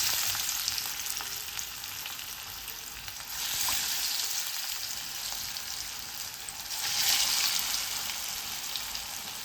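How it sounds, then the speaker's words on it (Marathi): Coriander fritters frying in hot oil over a low flame, a continuous close sizzle and bubbling that swells twice into louder bursts, with no talk. "गॅसचा फ्लेम स्लो करून स्लो फ्लेमवर आता तळून घेणार आहे"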